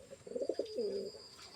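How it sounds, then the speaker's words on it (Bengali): Pigeons coo inside a locked coop, a soft, close run of throaty rolling coos that swell briefly and then trail off, with no talk over them. "কবুতর দেখা যায় ভিতরে ডাক শুনে"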